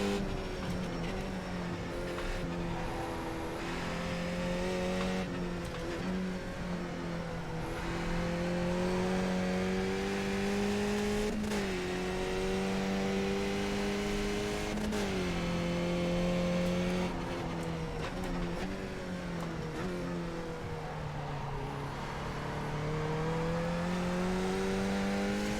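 Skip Barber race car in the iRacing simulator weaving around the track, its engine droning loud and close with continuous rising and falling pitch as revs shift, tyres faintly squealing at times.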